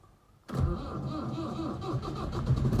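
A tractor engine cranks and catches abruptly, then settles into a loud, close, steady running rumble with no talking.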